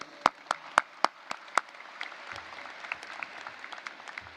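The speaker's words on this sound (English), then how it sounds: "Let's give them a round of applause." Scattered applause at a high school graduation ceremony: a few sharp, close individual claps up front, then softer, sparser clapping from the crowd, fairly quiet overall.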